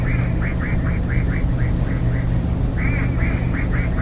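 The quack horn on an amphibious duck tour boat at Surfers Paradise on the Gold Coast sounds a quick run of repeated nasal quacks, then a second burst, all over a loud, steady rumble of engine and wind.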